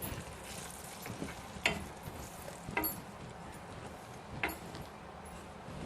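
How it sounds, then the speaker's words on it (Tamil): Wheat flour roasting in melted ghee on a low flame for laddu. A soft, steady frying hiss with three or four distinct scraping strokes of stirring, fairly quiet and without speech. "அந்த நெய் உருகுன உடனே இந்த கோதுமை மாவு போட்டுக்கணுங்க. நல்லா சிம்மில் வச்சுட்டு வறுத்துக்கிட்டு இருக்கலாம்."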